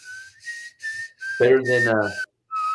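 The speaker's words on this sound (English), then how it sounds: "I'm trying to whistle some Godfather music." A person whistles a tune from The Godfather in short, wavering phrases, close and clear, with a voice cutting in briefly partway through.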